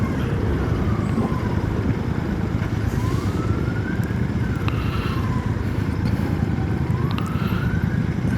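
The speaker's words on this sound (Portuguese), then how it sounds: "agora a ambulância tá vindo" An ambulance siren wails through dense São Paulo traffic, heard from a Royal Enfield Super Meteor 650 motorcycle, its rising and falling sweeps repeating steadily over a loud, constant roar of engines and road noise.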